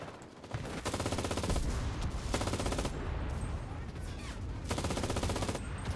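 Rapid machine gun fire from a mounted MG in the World War II shooter game Enlisted, set in Normandy, loud sustained bursts with brief pauses between them, close and dominant.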